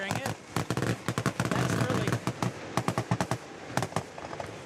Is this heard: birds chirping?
no